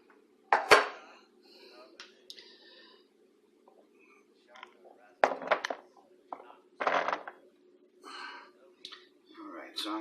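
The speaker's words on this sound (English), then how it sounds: "I'm going to put them into this saucepan, just like that" Fruit for a pie filling drops into a saucepan in several clattering, metallic bursts, close and fairly loud, with someone speaking softly between them.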